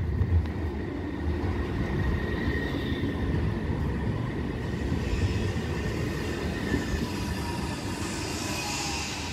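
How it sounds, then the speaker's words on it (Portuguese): A metro train in Zaragoza rumbles past steadily with a low broadband roar and faint high squeals, continuous throughout at moderate distance. "tem metrô aqui"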